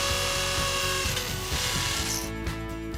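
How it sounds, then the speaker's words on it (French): A power drill bores into a wall to make holes for trellis fixings, a loud close steady whine with a grinding, juddering bite throughout. "Puis percez."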